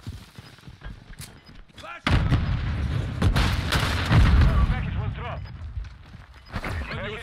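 A grenade launcher round from Modern Warfare 2 lands with a heavy, close boom, followed by rumbling combat noise and scattered shots while players talk over it.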